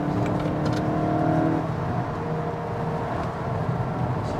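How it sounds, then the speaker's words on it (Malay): A VW Golf GTI MK8 with a DSG dual-clutch gearbox pulls hard, its engine a steady droning roar from inside the cabin, with a quick change in tone around a fast gear shift and no talking. "dia punya gear shifting dual clutch DSG ni, saya tak boleh katakan betapa pantas, betapa cepatnya dia punya gear shifting"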